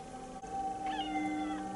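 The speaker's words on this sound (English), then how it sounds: "Cat!" A cat meows in a TV drama scene, a single drawn-out, rising-then-falling meow heard clearly over a quiet background, with no talking.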